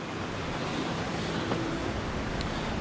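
A mountain stream in Crimea rushes in a constant broadband hiss, steady and moderately close, with a light wind-like wash and no speech.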